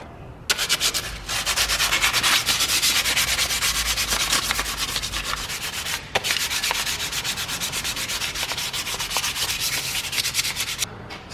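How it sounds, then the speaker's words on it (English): Steady, close scraping rasp of 600 grit sandpaper worked back and forth over a Mercedes E400 brake caliper, continuous and loud with two brief pauses. "Sand it down front and back"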